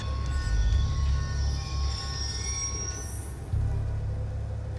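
A train rolls past in the Call of Duty Black Ops 2 mission Fallen Angel, a steady heavy rumble with a rising metallic wheel squeal, the rumble dipping briefly and then returning, with no voices.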